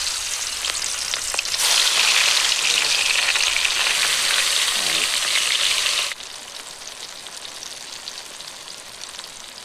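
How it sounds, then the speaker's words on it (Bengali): Pieces of freshly caught pond fish drop into hot oil and sizzle loudly for several seconds in a bright crackling hiss, which then settles to a quieter steady frying; no talking. "দেখুন আমার তেল গরম হয়ে গেছে, এবার মাছগুলো আস্তে আস্তে দিয়ে দেব।"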